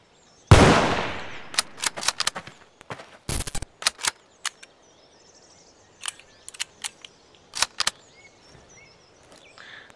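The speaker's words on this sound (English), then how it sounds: "Who's he actually shooting at?" Gunfire in Garry's Mod, a loud opening blast followed by scattered sharp shots and short bursts, some close and some thinner, separated by quiet gaps with low background noise.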